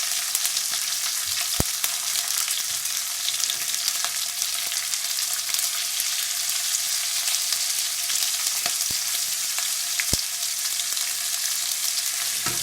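Chilies frying in a covered pan over the lowest gas flame give off a soft, steady hiss of sizzling oil, broken by a few sharp isolated pops and crackles, with no voices.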